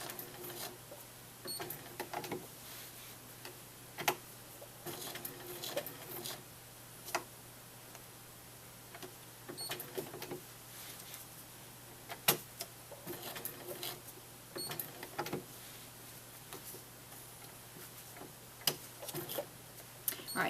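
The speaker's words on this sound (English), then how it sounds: "sew along the hexagon, pivoting at the corners. Go all the way around the 6 sides." Sewing machine stitching fabric around a hexagon, pivoting at the corners, heard as faint, intermittent ticking and short clicks over a low steady hum with brief pauses throughout.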